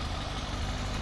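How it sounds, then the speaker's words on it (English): A Suzuki GSXR 1000 K4 engine fitted in a lightweight track car with a Power Commander idles close by, a dense, loud, steady throb with a rapid low pulsing rhythm over one brief second. "The engine sounds good."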